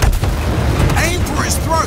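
Gunfire aimed at a T-Rex in the video game Second Extinction, heavy booming shots running continuously under excited voices, loud and close.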